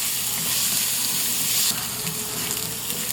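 Garlic and onion frying in a pan for sinigang na bangus, a steady close crackling sizzle that runs evenly throughout with no talking.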